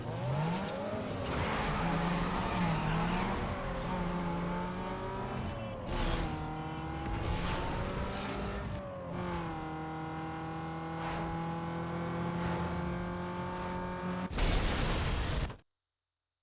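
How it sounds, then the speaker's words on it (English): Race cars in Need For Speed Underground 2 rev and surge at the start of a race, then crash with loud impacts, a jolting hit midway and a harsh shattering burst near the end before the sound cuts out. "At the start of the race, we wreck."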